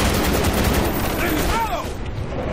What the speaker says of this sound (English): Oh shit, shotgun.